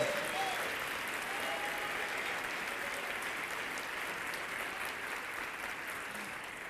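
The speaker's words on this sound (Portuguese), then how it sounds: "um aplauso ao nome do Senhor" A church congregation applauding during a Portuguese-language sermon, a broad, even wash of clapping from many people that holds steady and fades slightly toward the end, no voices over it.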